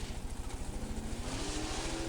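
Drag racing cars with 500 cubic inch engines making some 9,000 horsepower leave the starting line at the 1992 NHRA Slick 50 Nationals, a steady pulsing engine roar with a rising tone, moderately loud and slightly distant, with no talk.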